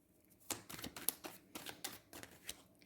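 Tarot cards being drawn and handled, a quick series of soft crisp snaps and shuffling clicks, close and quiet, with no voices.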